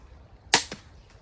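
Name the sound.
gunshot-like shot while slingshot/crossbow fishing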